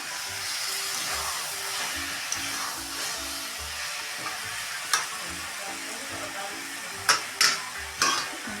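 Food stirred in a pan over a high flame sizzles steadily, with rhythmic scraping strokes and a few sharp metallic clinks of the spoon near the end.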